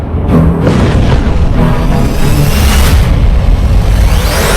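A large, loud explosion as an Israeli Merkava tank is struck by a Hezbollah anti-tank missile, a sustained heavy roar and rumble filling the whole moment.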